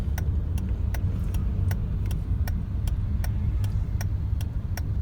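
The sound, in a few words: Honda City ZX car engine running in second gear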